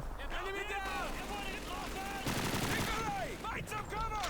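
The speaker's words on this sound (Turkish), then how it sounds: "Şu silah ne lan? Şurada enteresan bir silah var. Bu ne? PPS 42. Bir tarayayım bakayım ben şunu." A PPS-42 submachine gun fires in Call of Duty 2, a burst of rapid automatic shots cutting through busy battle noise and overlapping speech from in-game characters, moderately loud and near.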